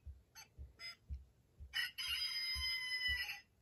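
A talking watch for the blind plays its rooster alarm, a synthetic cock-a-doodle-doo crow following a few short clucks over rhythmic low thumps, thin and tinny from a small scratchy speaker.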